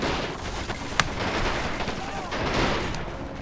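Flak 38 anti-aircraft guns on flak panzers firing in the Men of War: Assault Squad 2 game during an Omaha Beach landing, a dense, continuous battle din with one sharp crack standing out, and a voice speaking faintly underneath.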